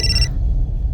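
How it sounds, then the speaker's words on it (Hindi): A telephone gives a short electronic ring in a crime drama. It lasts only the first fraction of a second and cuts off into a low background hum. "मेघा का फोन।"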